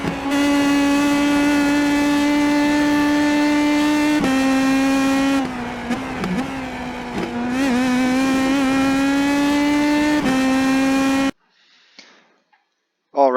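An IndyPro2000 open-wheel race car laps Road Atlanta in the iRacing sim, its engine a loud, sustained high-pitched drone that dips and climbs with shifts and braking through corners, then cuts out abruptly near the end.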